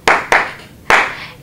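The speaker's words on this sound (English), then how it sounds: "Clap along if you feel that you should vote for me." Three sharp, loud claps from an audience clapping along at a school freshman election event, two in quick succession and a third after a short pause, each with a brief room echo.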